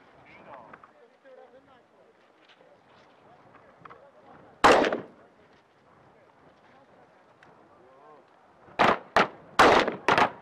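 Rifle gunshots during a joint shooting training of Polish and Guinean soldiers outdoors: one sharp loud crack, then after a pause a quick series of four shots, with people talking and wind between.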